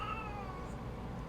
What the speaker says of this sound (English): What's up, Tallulah? Why are you meowing?